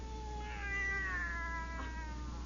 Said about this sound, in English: And now your cat cries when you start having nightmares.